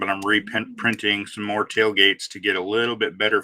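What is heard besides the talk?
No everyday noise stands out behind the speech.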